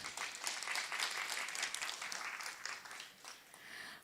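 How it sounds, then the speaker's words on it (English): An audience at a community event in Bahrain applauds the speakers, a sustained wash of many hands clapping from the room that holds steady and then tapers slightly toward the end. "Big round of applause to them."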